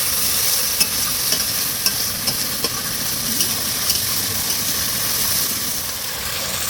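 Spice paste of ground ginger for shukto fries in a pan, a steady close sizzle broken by regular scraping stirs and light ticks of the spatula against the metal.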